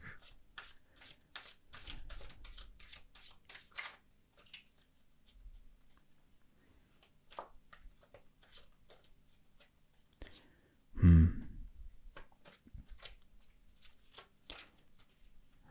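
A Golden Art Nouveau tarot deck being shuffled and cut by hand, heard as quiet close riffling and card flicks in quick bursts, with a louder thump partway through and faint soft rustling between.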